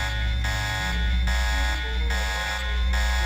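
Electronic alarm in the video game Deus Ex, a harsh buzzing tone pulsing on and off in a steady rhythm, loud and continuous with game sounds underneath.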